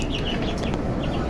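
A black hen on a poultry farm clucks faintly and steadily, with soft short calls over a constant noisy barn background and no voices.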